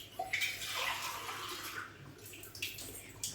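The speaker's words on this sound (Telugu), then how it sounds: "వాటర్ అనేది యాడ్ చేయాలి." Water pours into a kadai holding sugar for jalebi syrup: a continuous, close splashing stream that swells and thins over a few seconds.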